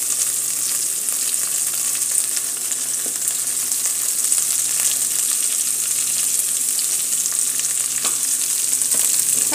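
Onions frying in a small amount of oil, a dense, even sizzle that holds steady and close throughout, with a few faint clinks and no talking.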